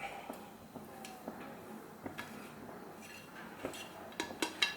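A spoon stirs oat powder into a sugar-free, oil-free protein bar mixture in a bowl, giving soft, irregular scrapes and light clinks that grow a little louder near the end. The sound is quiet and close.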